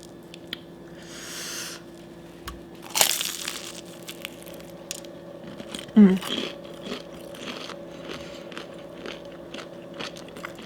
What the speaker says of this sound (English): Try to crunch on these while they're still crunchy.